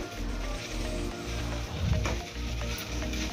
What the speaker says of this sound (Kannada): ಬೆಂಡೆಕಾಯಿನ ಹುರ್ಕೋಬೇಕು